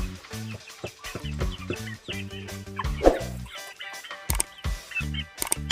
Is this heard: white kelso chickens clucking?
yes